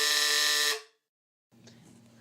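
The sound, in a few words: quiz game buzzer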